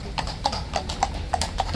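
A King's Guard horse walks on hard pavement, about seven evenly paced hoof clip-clops ringing out close by over a murmuring outdoor background.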